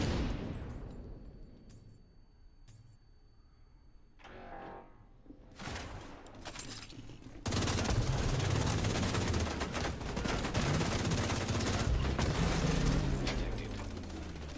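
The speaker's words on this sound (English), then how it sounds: "Hostile assault turret detected." Hostile assault turret in The Division 2 firing loud, dense bursts that build into continuous rattling fire, after earlier scattered mechanical clicks and clatter.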